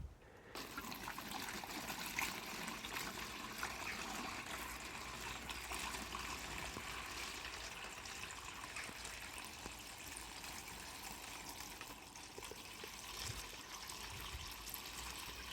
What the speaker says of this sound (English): pour your water into there